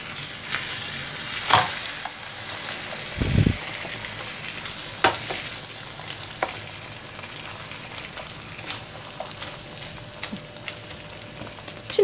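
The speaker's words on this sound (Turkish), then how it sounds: "Şimdi diğer tarafını kızartıyorum." Egg börek made with yufka fries in a pan, giving a steady sizzle with occasional clatters and one brief scraping sound as the dough cooks.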